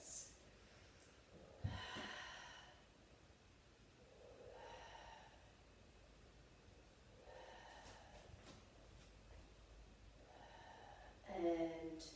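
Slow, deliberate breaths in through the nose and out through the mouth during a yoga stretch, four or five soft, close breath cycles spaced a few seconds apart in a quiet room.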